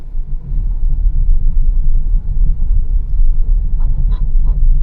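A Honda Amaze rolls through Latur city traffic with a loud, steady low rumble of engine and road noise from inside the cabin. A few faint higher chirps sound toward the end.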